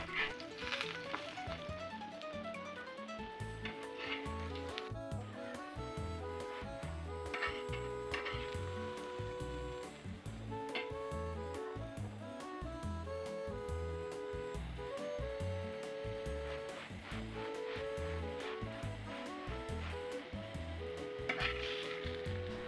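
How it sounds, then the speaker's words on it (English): Carrot chapatis fry in cooking oil on a pan until golden, making a continuous low sizzle beneath steady, rhythmic background music. "I add in cooking oil and fry until golden"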